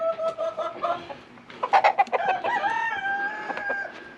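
Several chickens clucking close by, with a rooster crowing a long drawn-out call over the flock.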